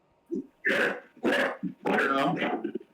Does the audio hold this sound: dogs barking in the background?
yes